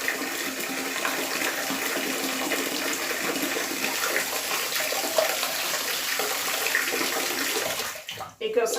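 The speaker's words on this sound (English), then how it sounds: "So you just run the water enough so it is just covered." Tap water runs steadily into a basin for washing a finished cross-stitch fabric piece, a continuous splashing flow that stops abruptly near the end, followed by a few handling sounds.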